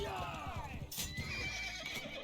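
A horse in the video game Mount & Blade II: Bannerlord lets out a long descending whinny over rapid, close hoofbeats and busy game sounds.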